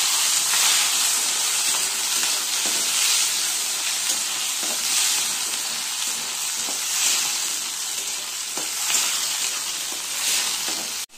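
Beans and green peas frying in a pan for a mung dal, a steady bright sizzle with soft stirring scrapes running throughout, close and fairly loud, no voices.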